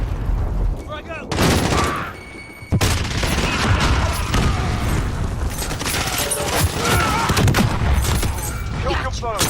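Call of Duty Modern Warfare and Cold War gameplay with a frag grenade blast and bursts of rapid gunfire, loud booms and clattering shots packed densely together, with crackling battle noise throughout.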